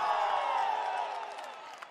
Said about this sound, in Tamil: ஆரவாரம் எழுச்சி.